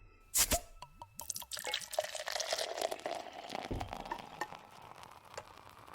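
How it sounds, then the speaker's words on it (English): Coffee is poured into a cup: a close, steady liquid stream with splashing and dripping that rises and then tapers off, heard alone with no talking. "I gotta do some pouring here."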